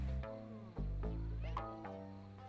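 A cat meows in the video game Back to the Dawn, a few short voiced calls that rise and fall over a steady low musical background, close and moderately loud, with no talking.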